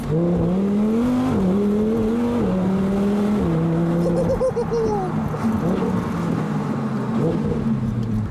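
Loud engine drone rising and falling through gear changes as a convertible sports car drives with the roof down, wind noise steady throughout, with a voice briefly audible over it.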